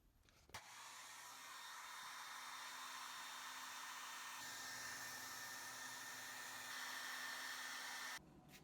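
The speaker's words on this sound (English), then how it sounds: "you're going to put the hairdryer back on it and let it kind of lift up and dry the underneath" A hair dryer blows steadily at close range onto wet recycled paper with a constant whirring hum, switching on at the start and cutting off near the end.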